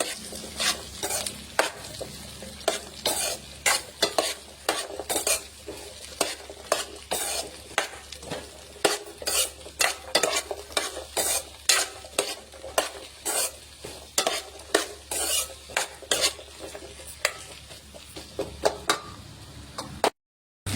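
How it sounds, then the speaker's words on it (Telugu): Ivy gourd pieces stir-frying in hot oil in a pan for a chutney, with a steady sizzle and repeated scraping clinks of a spatula against the pan, close and continuous with no talk. "దొండకాయ ముక్కలైతే ఆయిల్లో మంచిగా ఫ్రై అయిపోవాలండి."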